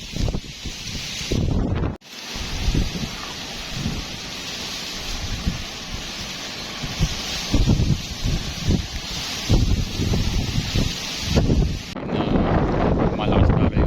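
Strong monsoon wind roars across a fishing bay in Calamba, a loud, continuous gusting rush with rustling grass that swells and dips, and a brief dropout near the start.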